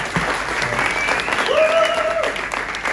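Steady audience clapping fills a gala dinner hall in Dubai, continuous and moderately loud for a few seconds with no voices over it.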